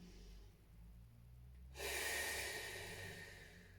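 A deep, audible inhale during a slow lower-back exercise: a faint breathy draw swells into a louder, sustained rush of breath partway through, close to the microphone, with no talking.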